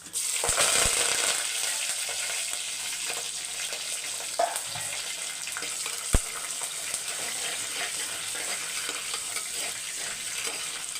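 Garlic, dried and green chilies, mustard seeds and curry leaves sauté in hot oil, giving a steady close sizzle with occasional clinks and taps of a stirring spoon against the pan, with no talking.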